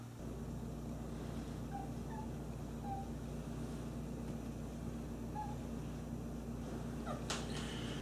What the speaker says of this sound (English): We called in the stunt cat.